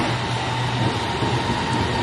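A metro train rumbles steadily into a station platform in Kuala Lumpur, a dense continuous roar with a low hum, close and loud, with no talking.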